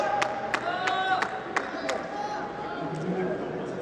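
Crowd at a Kho Kho World Cup match between South Korea and the United States cheering and roaring loudly, a dense sustained wash of voices with sharp claps and shouts rising through it.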